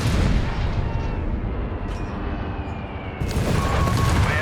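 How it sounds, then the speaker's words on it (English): Heavy bombs from an airstrike slam into a howitzer in Company of Heroes 3. Dense booming blasts and rumbling explosions run throughout, loud and close, with a second burst of impacts near the end. "And another airstrike on the howitzer, another one."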